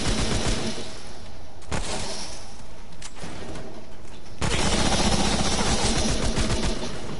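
Assault rifle fire in the video game Remnant: From the Ashes, loud sustained automatic bursts rattling without pause, broken by a few brief gaps and a sharp resumption of harsher, denser fire.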